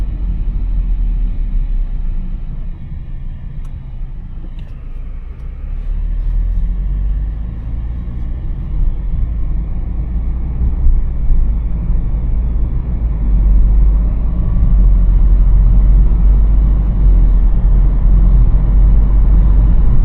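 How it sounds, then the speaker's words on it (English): A 2021 VW Polo Highline with a 1.0 TSI 116 hp engine and 7-speed DSG, heard from inside while driving: a steady low engine and road rumble that swells gradually, cabin noise constant with no talking. "let you guys have a feel of the driving experience on this car."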